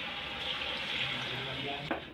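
Tap water runs steadily into a cooking pot in a home kitchen as rice porridge is prepared, a continuous close splashing hiss that ends with a brief louder splash.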